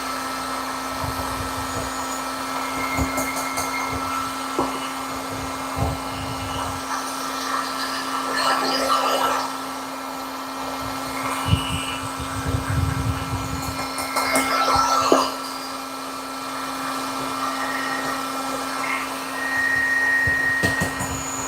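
A heat tool blows steadily over a clear-coated lure body for an inline spinner, giving a continuous, close, airy whirring hum with a faint steady tone, sustained throughout with small fluctuations and no talk.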